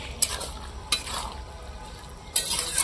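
Soft fried eggplant being stirred into a simmering curry in a pan, with quiet sizzling under a few distinct scraping strokes of a spatula, close and fairly faint.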